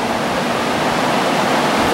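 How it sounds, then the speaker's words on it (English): Two large LGR dehumidifiers run at 149 pints per day while drying a water-damaged home, a steady broadband whoosh of fans and airflow with no variation. "So we're running two LGRs that run 149 pints per day."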